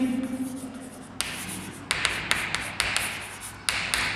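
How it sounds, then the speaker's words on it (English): A lecturer writing on a board with chalk, a series of sharp taps and short scratching strokes at an uneven rhythm, close and clear, with no talk. "Let us write the statement."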